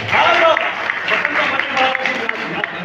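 An audience applauds at a Hindi poetry recital, a dense, loud burst of clapping from a crowd lasting a few seconds.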